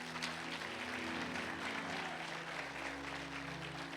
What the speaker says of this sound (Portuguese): Pode aplaudir, senhor.